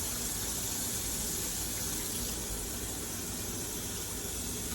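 Water runs steadily from a sink tap while a bleached wig is rinsed in a sink that had been clogged with chunks: a continuous close, even gushing hiss with no pauses and no talk.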